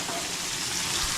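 Chicken curry frying in a home kitchen pot while being stirred, a steady broadband sizzle filling the short moment with soft scraping, close and moderately loud, no voices.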